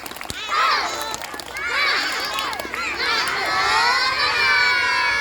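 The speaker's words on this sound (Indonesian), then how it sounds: "Ayo tepuk dulu, semangat dulu." Schoolchildren in an Indonesian classroom shout a spirited clapping chant together, a loud, lively crowd of young voices with overlapping calls and bursts of cheering that carry on without pause.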